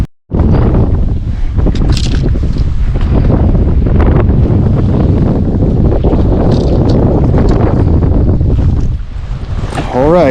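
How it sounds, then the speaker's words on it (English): Strong wind buffets the microphone nonstop on a boat during fall bass fishing, a loud broadband roar with gusty swells and rumbling low end that barely lets up for the whole stretch. "Not sure how well this is gonna work in the wind."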